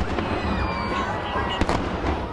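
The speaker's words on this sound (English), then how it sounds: "When they lit off fireworks in Detroit, a preview of the 4th of July" Fireworks popping and crackling in the distance in Detroit ahead of the 4th of July, with a few sharper bursts standing out over a continuous background rumble.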